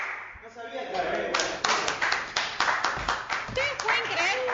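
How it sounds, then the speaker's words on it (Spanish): Children in a classroom clap in a quick, irregular burst of close hand claps and taps, starting after a moment of voices and continuing loudly to the end, with talking mixed in. "¡Aplausos!"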